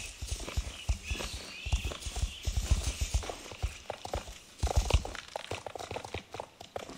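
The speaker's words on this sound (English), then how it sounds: "Gonna give her a little jump, first canter of the day." A horse cantering outdoors, its hooves pounding in a steady, rolling clip-clop rhythm close to the microphone, with crunching footfalls on the ground throughout.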